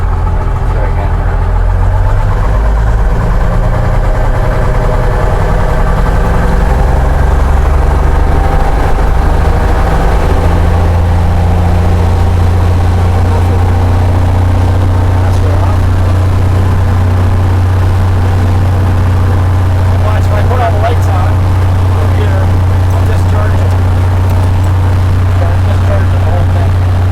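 Piston engine of a Cessna 172B light aircraft idling steadily after start-up in a hangar during its annual inspection, with the electrical system not charging, a loud continuous low drone throughout, with people talking over it.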